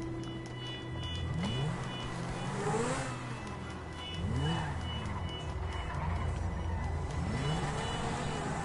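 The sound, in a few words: car engine revving in a video game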